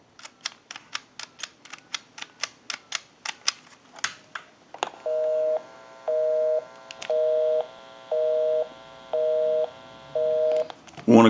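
Rapid series of evenly spaced clicks as a number is dialed on a Western Electric Trimline wall telephone, followed by a near, loud busy signal pulsing in regular on-off beeps.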